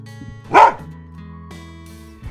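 A single short dog bark, loud and close, stands over a low background hum in a Marathi children's telling of the greedy dog tale. A second burst begins just as the clip ends.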